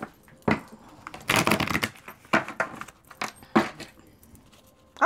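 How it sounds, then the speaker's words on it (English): Tarot cards are shuffled by hand in short riffling bursts with crisp papery slaps, a longer flurry followed by several quick separate shuffles, close and clear against a quiet room. "I don't know why I shuffled again."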